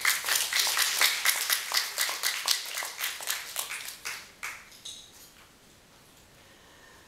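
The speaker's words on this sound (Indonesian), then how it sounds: "Beri tepukan kepada mereka." A hotel audience applauds a speech in Tenom, with dense clapping that is loud at first and then thins into scattered claps before fading to quiet.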